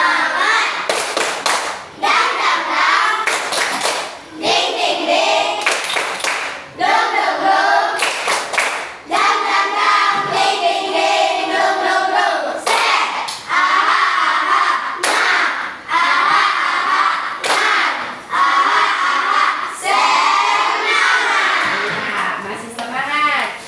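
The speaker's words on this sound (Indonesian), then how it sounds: "Biar tambah semangat, kita tepuk semangat dulu." A school class does the tepuk semangat spirit clap, loud patterned bursts of hand claps in quick rhythmic groups, with children's voices chanting between and over the clapping.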